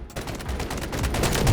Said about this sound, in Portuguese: Ela dá uma leve puxada nos primeiros tiros de forma vertical.